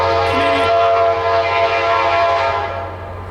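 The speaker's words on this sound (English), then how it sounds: "here comes the Kansas City Southern, now known as the CPKC Railroad" A Kansas City Southern freight train, now under CPKC, rolls past with its horn sounding as a loud, steady chord over the deep rumble of the locomotive, held continuously before easing slightly at the end.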